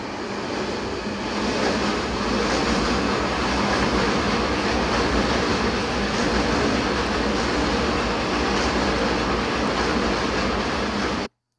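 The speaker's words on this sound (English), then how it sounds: "if you want to have a train running in the back of your video" A steady, loud rumble of a running train with a faint rhythmic clatter continues unbroken as a sound effect, then cuts off abruptly at the end.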